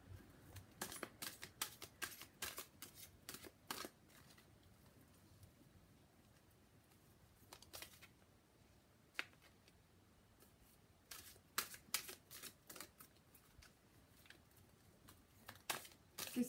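Tarot oracle cards are shuffled by hand in quick bursts of crisp riffling and flicking, pausing in between, quiet and close, with no talking.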